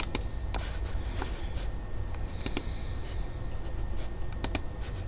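Computer mouse clicks during a Call of War strategy game session, a handful of sharp, scattered clicks over steady low background noise, with no talking.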